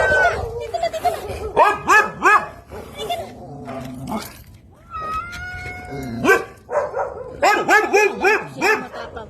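A dog gives a run of sharp, close barks and yips, some in quick bursts, while a person talks over them.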